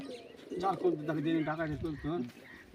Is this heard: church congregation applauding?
no